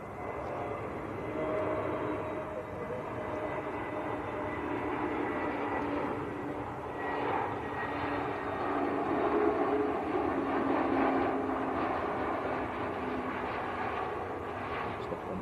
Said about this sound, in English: Emirates just starting to taxi out as well